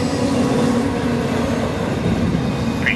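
A Norfolk Southern freight train rolls past close by in Central, South Carolina, with a loud, steady rumble of wheels and cars, a faint high squeal near the end and no talking.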